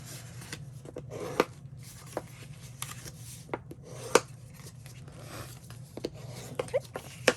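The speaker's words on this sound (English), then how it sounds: "then you're going to score it, burnish it, and fold it inwards" Card paper being scored, burnished and folded for a pop-up card: quiet scattered scratches, rubs and soft creasing taps at an irregular pace over a low steady hum, close and faint.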